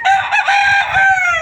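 Young rooster crows one long, loud, close cock-a-doodle-doo, a strained rising-and-falling call lasting over a second with faint farmyard noise beneath.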